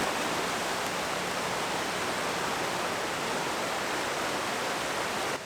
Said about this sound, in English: you can get the falls, the water cascading down in front of you